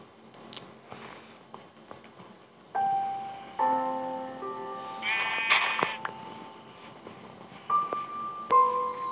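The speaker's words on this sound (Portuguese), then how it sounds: "Achei uma ovelha aqui." Minecraft PE sheep bleating in a game, with short tonal bleats among soft chewing and crunching sounds, a couple of clear bleats near the end.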